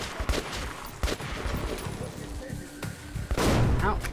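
Gunfire in the video game Metro 2033 Redux comes as several sharp shots and bursts, with a heavier, louder volley near the end, mixed with game noise.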